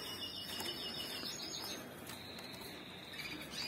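Caged birds in small breeding cages divided by opaque partitions give steady faint chirps and wing flutters, a constant low twittering from several birds with no talking.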